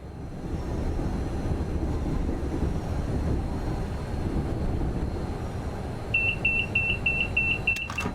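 A rapid series of short, high electronic alerter beeps sounds over the steady low rumble of a Class 390 Pendolino train cab in motion, in the video game Train Sim World 5.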